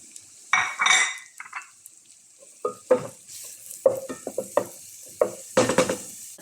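Mushrooms sautéing in a pan with garlic and onion already browned, a steady background sizzle under repeated close utensil scrapes and stirring clinks against the pan, with no talking.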